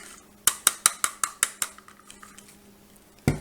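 A utensil taps and clinks rhythmically against a pot or pan while spaghetti aglio e olio is tossed with grated Pecorino Romano cheese. About ten sharp metallic knocks fade gradually, then one last louder clank lands after a short pause.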